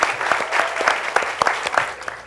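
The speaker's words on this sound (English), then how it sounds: "A round of applause," Audience applause at a student pitch competition, a lively burst of many hands clapping with distinct sharp claps standing out, loud and continuous throughout.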